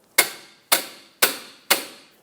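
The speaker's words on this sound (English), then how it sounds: "With a pry bar, go up against the inner clamp and then tap the pry bar with a hammer." A hammer strikes a pry bar braced against the single-use inner tie rod boot clamp on a 2014-2021 Mazda 6. Four sharp, evenly spaced metallic taps ring close and loud, each decaying quickly.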